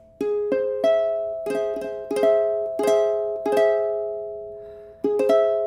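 Augmented chord on a piano for ear training, struck repeatedly: notes played in quick succession then together, each strike sustaining and slowly fading, about nine attacks over several seconds, clear and alone without talk.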